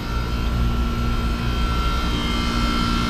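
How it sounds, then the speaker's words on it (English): An ice machine's compressor runs with a steady, close, droning hum with a constant tone and no breaks. "Compressor kicked on."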